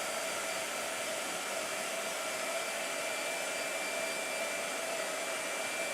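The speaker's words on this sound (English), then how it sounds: "Blow dryer." A blow dryer runs loud and close with a steady, unbroken whooshing roar and a faint whine, nothing else heard.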